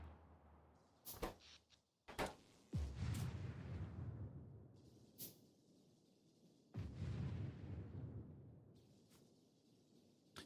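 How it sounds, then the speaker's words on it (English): Explosion sounds from the video game Factorio: several sharp, loud booms and thuds with rumbling decay, spaced irregularly over a low background hum, with no talking. "I don't think I've noticed anything besides the explosion sounds every 5 seconds."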